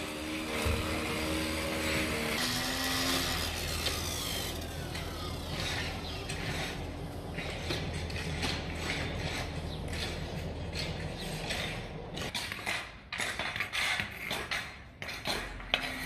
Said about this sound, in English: there's an army of people to do the weeding, and they're using a hedge trimmer